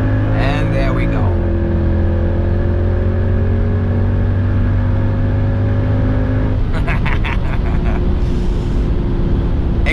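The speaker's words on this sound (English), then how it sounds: "Acceleration again is fast, but it doesn't push me back as violently in the seat as the Audi did." A supercharged AMG car accelerates hard on the Autobahn, its engine note loud and close from inside the cabin, with a gear change partway through and wind and road roar building under occasional talk.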